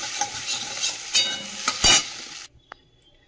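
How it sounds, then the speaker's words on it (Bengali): Crushed garlic and onion sizzle in hot white cooking oil in a pan, with loud stirring scrapes and bursts of frying that cut off abruptly into near quiet, followed by a single faint clink. "ওর মধ্যে তেল দিয়ে দিলাম, সাদা তেল দিয়ে, আর এতে একটু রসুন থেতো করে দিয়ে দিয়েছি, পেঁয়াজও দিয়ে দিলাম"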